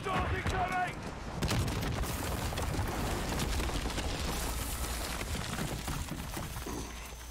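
Incoming missile strikes in Modern Warfare (2019) land as a rolling barrage of explosions and gunfire, dense and loud throughout, with voices calling out over the chaos.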